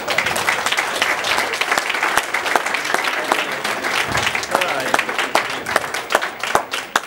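Audience applause for a Hall of Fame inductee at a 2015 induction ceremony, a dense, steady wash of many hands clapping close and loud for the full stretch, with faint voices mixed in.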